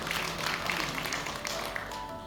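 Church congregation at a Sunday service clapping for Jesus, a dense, steady patter of many hands that sounds moderately near, with some faint background tones underneath.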